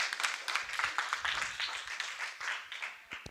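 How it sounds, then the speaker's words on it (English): A round of applause for a presenter at a university postgraduate research conference, with dense, steady clapping from a seated audience lasting several seconds at moderate volume. "Can we give a round of applause to Kamati?"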